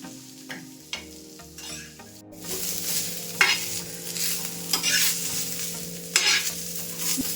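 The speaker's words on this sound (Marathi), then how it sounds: "आता मी व्यवस्थित हे भाजून घेते" Onion masala for a ground paste roasting in a pan, with a steady close sizzle and repeated spatula scrapes and knocks as it is stirred; a faint tonal background runs underneath.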